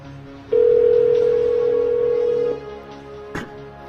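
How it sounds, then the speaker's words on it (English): An iPhone placing a call to a mobile number at Macworld 2007 gives a single steady electronic tone lasting about two seconds, followed by quiet room noise and a faint click. "I'll call his mobile number right now."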